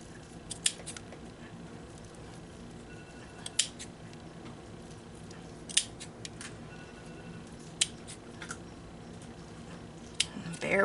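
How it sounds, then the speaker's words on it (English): Scissors trim stiffened ribbon strands for a patriotic loopy hair bow, giving sharp, scattered snips every second or two over a steady low room hum. "Okay, so I'm just going to start trimming."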